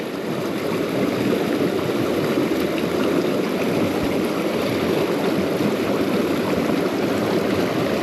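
A small mountain creek flows continuously, a loud, close, steady rush and gurgle of water with no voices.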